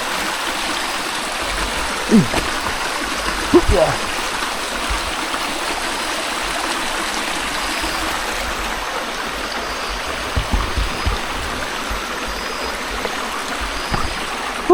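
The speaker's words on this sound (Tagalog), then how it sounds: "Wow, grabe, may ilog din eh." A river winding past a rocky spot flows with a steady broadband rush and trickle throughout, a few brief knocks and a short spoken word breaking through.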